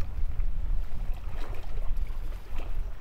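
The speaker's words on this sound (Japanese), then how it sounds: "今日こんなに風吹く予報じゃなかったんですけどね。 風吹いてきた。" Wind gusting over a boat at sea during rock bream fishing, a steady low rumbling buffet against the microphone that lasts throughout, with faint rustling on top and no voices.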